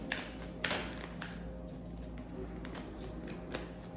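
Soft riffling and tapping of tarot cards being shuffled in a few short bursts, fairly close, with low background hum and no talking.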